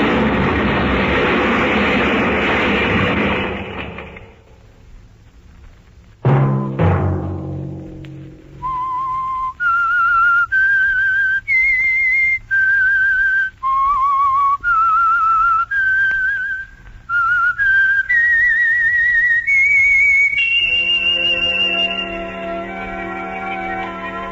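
A whistled radio show theme, from The Whistler, rises and falls in clear, sustained notes, one pitch after another, following a fading rush of noise and a sharp struck tone.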